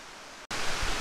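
Salopa waterfall, a 25-metre cascade of twelve tiers with small pools, roars as a steady broadband rush of falling water, briefly cut off midway, then returning louder and closer with a deeper rumble.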